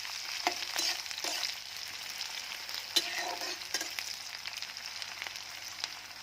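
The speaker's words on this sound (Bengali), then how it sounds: "এবার আমি পেঁয়াজ দিয়ে দিই। পেঁয়াজটা হালকা হালকা হয়ে যাবে" Onions frying in a pan while cooking dalma, a soft continuous sizzle broken by several sharp stirring scrapes and clinks of a spatula, close up and moderately loud, with no voices.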